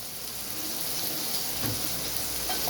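Tomatoes and spices sauté in hot oil for a fish head curry, a steady close sizzle and crackle with a faint stir partway through.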